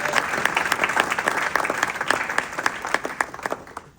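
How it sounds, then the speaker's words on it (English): An audience claps steadily for Council Member Yusef Salaam at a State of the District address, a dense, sustained round of applause that thins slightly toward the end. "Let's give him a round of applause."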